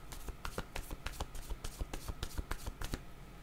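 Tarot cards shuffled for a reading, a quick even run of crisp riffling flicks and taps, close and fairly quiet, with no speech over them.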